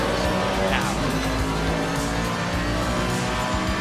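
Mercedes-AMG race car in Assetto Corsa Competizione during a competitive race, its engine droning steadily and loudly with a low rumble and faint tyre noise throughout, no pauses.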